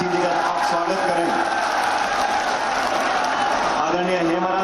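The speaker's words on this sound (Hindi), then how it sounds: "जोरदार तालियां बजा के आदरणीय नारायण सिंह जी का आप स्वागत करें" A crowd at a political rally in Rajasthan claps and cheers loudly and steadily to welcome Narayan Singh, with a speaker's voice carrying over the noise.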